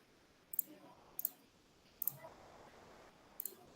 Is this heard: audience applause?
no